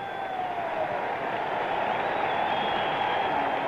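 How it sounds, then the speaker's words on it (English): A baseball stadium crowd at the 1968 MLB All-Star Game applauds and cheers in a sustained, distant roar that swells slightly and carries a broadcast-style hum beneath it. "Listen to the applause."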